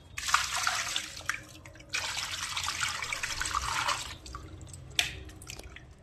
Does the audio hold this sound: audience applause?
no